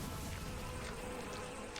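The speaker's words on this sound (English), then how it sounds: "Is that bees?" A steady, dense buzzing drone like a swarm of bees, continuous and fairly close, with no voices over it.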